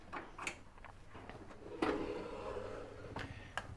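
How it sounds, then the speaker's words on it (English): The oven door lock on a Beneteau Oceanis 48 sailing yacht is worked by hand, producing a few close, soft clicks and clacks of the latch with brief sliding rubs in between, in a quiet cabin. "Above the oven, you can lock and unlock the door from here."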